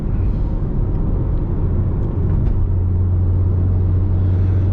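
A tuned Mitsubishi Lancer Evo X GSR running on E85 cruises at 60 mph around 2,800 RPM, giving a steady, loud, low engine drone and road rumble heard from inside the car.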